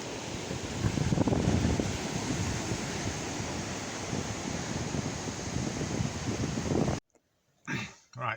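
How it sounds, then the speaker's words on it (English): Strong wind on a beach buffets the microphone with a loud, continuous roaring rumble, a sound like crashing surf, which cuts out abruptly near the end, leaving a couple of short gusts. "it's too windy and it'll just make too much noise"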